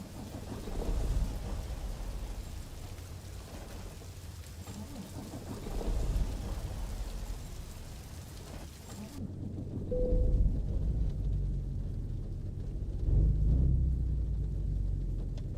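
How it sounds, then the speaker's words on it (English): Video game rain in a truck-driving simulator: steady heavy rain pours throughout, with low rumbling thunder swelling in several waves; the texture shifts partway, sounding more muffled and sheltered. "unfortunately it is raining"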